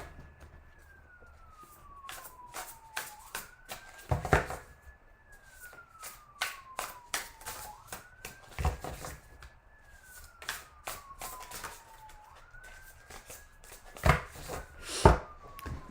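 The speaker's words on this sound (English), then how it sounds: "that police siren is not stopping" Police car siren wailing in long rising and falling sweeps, repeating steadily, somewhat distant and continuous, with intermittent bursts of other noise and occasional thumps over it.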